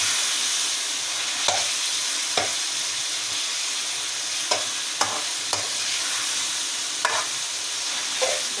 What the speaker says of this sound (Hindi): अब टमाटर भी हमारे अच्छी तरह फ्राई होंगे